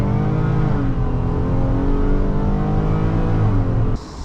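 A 2020 Ford Police Interceptor Utility hybrid with a 3.3L engine pulls hard from inside the cabin, its engine droning loud and steady with rising harmonics before the sound drops off abruptly near the end.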